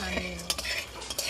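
Peanuts and chickpeas dry-roasting in a pan, stirred with a utensil, give quick scraping, rattling strokes and small clinks against the metal over a faint background hiss, close and moderately quiet.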